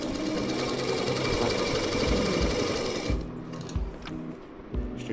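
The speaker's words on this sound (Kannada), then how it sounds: "ಪ್ರೆಸ್ ಮಾಡಿ ಮಿಷಿನ್ ರನ್ನಿಂಗಲ್ಲಿ ಇರಬೇಕು, ಕಾಲು ತುಳಿತಾನೆ ಇರಬೇಕು." An Usha sewing machine runs steadily under foot-pedal pressure, giving a close, loud, fast mechanical clatter for about three seconds before easing into a quieter, uneven rattle.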